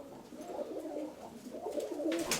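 Pigeons in a pigeon loft cooing softly, a low, rolling murmur of repeated coos that runs throughout at moderate distance, with faint scratches and rustles at the end.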